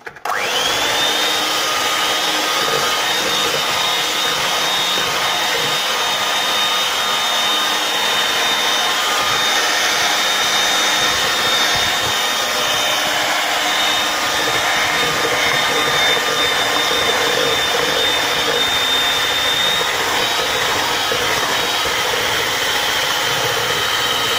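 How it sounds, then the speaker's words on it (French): An electric hand mixer beats sugar and eggs for a pear tart batter, giving a loud, steady, high motor whine that runs unbroken and alone for the whole stretch. "D'abord on va travailler le sucre avec les œufs bien."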